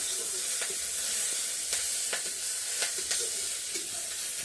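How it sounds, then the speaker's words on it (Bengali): Green chillies and garlic tempered in hot oil in a home kitchen, giving a continuous bright hiss and crackle with a few faint stirring knocks, no talk. "এখন কাঁচা লঙ্কা রসুন ফোরনে দিয়েছে"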